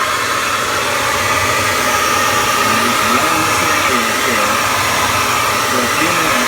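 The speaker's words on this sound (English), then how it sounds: "So I'll show you a hair dryer." Hair dryer blowing steadily to melt ice off the fan area at the back of a Samsung four-door refrigerator, a loud continuous whooshing roar with a faint motor hum underneath, unbroken throughout and no voices.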